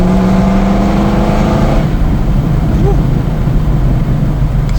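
A 600HP Mercedes E63 AMG daily driver roars loud and close, its V8 exhaust droning then rising as the engine revs, with a rough, throaty rumble throughout and a pitch change partway as it accelerates.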